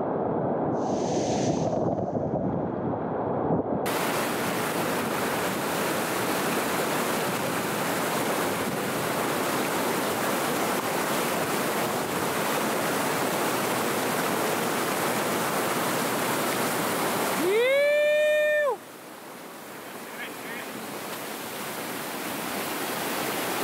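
Red-a-ven Brook, a Dartmoor stream, rushing steadily with a loud, broad hiss of flowing water that continues unbroken for most of the stretch before dropping away near the end.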